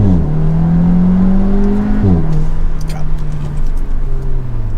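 An Audi S3 engine revs and accelerates in a steady rising drone, drops back briefly around a gear change, then pulls again, heard from inside the cabin with some faint ticking.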